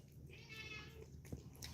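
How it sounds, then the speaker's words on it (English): A pet cat, one of several rescue cats in a home, meows at the door, a soft plaintive call heard faintly against a quiet indoor background with a small knock near the end. "but he's meowing at the door because it's almost laser time because he knows it's Saturday."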